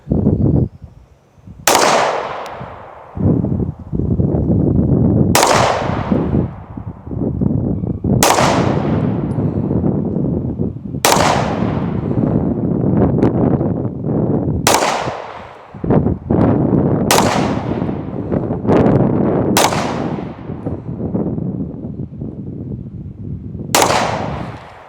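Rifle shots from a Cabot Guns Rebellion test-fired outdoors in wind, sounding as about nine sharp, loud reports spaced a few seconds apart, each trailing into a rumbling echo over steady wind noise.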